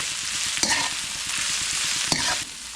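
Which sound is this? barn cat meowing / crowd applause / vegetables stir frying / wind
vegetables stir frying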